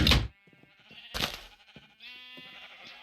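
Sheep bleating on a sheep farm in Minecraft, several short game bleats in close succession, fairly loud and near, with a few soft clicks between them and no talk.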